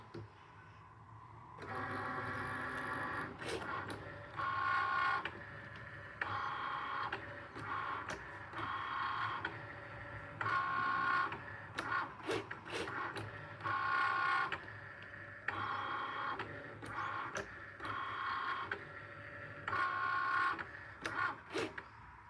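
A Cricut cutting machine runs in repeated whirring, buzzing bursts of motor movement with short pauses and clicks between them, a regular start-stop rhythm close by.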